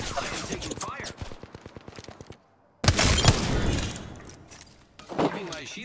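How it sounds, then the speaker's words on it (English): Gunfire in the battle-royale shooter Apex Legends: a rapid run of evenly spaced shots, then after a short silence a loud burst with a crashing impact that fades out, followed by another sharp hit. "I am taking fire."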